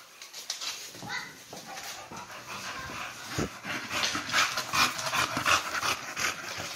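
Bully breed dogs panting near and steadily while eating beef tips and brown rice mixed into their dog food, with snuffling and light clatter throughout and a brief low knock partway.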